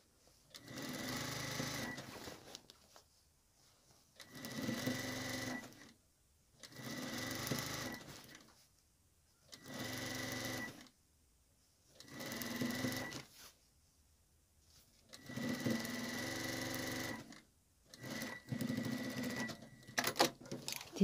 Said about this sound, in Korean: 1cm 시접으로 이렇게 박음질해서